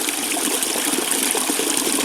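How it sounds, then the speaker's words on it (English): Water running over solid rock in a narrow gully beside Cayuga Lake, a steady, close, bright rushing wash with no pauses and no voices. "You can actually really see the water eroding the rock away here."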